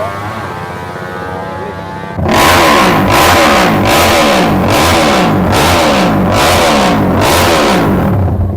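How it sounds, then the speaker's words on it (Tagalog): A Honda PCX motorcycle at a motor show with drag racing, its engine revving hard in a loud, steady rhythm of rising and falling surges that kick in abruptly after a quiet stretch of background noise. "Grabe yung makina oh. Ganda ng PCX nyo."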